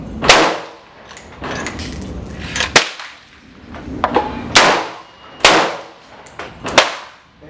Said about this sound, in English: So we'll just go ahead and shoot a few more.